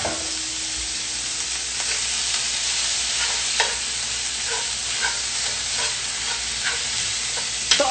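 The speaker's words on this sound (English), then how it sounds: "I'm gonna add some ground pork." Ground pork sizzles steadily in a hot pan, a dense, continuous frying hiss with occasional crackles and pops and a brief stir or two, close and loud with no voices.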